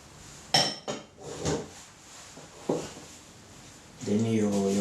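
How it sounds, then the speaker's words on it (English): Butter, sugar and pastry ingredients being worked together in a bowl, with a few scraping clinks of utensil against the dish, intermittent and close, before a voice starts talking. "You just mix everything together."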